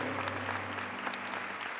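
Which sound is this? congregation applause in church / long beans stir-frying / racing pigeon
congregation applause in church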